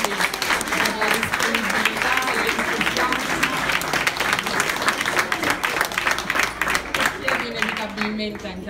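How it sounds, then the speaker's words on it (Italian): At the La Mia Cucina cooking event, the audience gives two guest chefs, one of them maestro Jin Shang, a long round of vigorous applause, dense clapping with voices mixed in underneath. "vorrei un applauso per entrambi"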